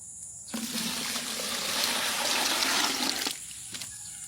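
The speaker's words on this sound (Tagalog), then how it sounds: "yan lagyan natin siya ng tubig" Water pours steadily into a container of inorganic fertilizer for about three seconds, a broad rushing splash that stops abruptly, followed by a couple of faint drips.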